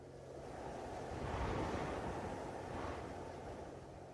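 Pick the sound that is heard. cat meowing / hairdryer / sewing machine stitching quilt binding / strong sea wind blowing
strong sea wind blowing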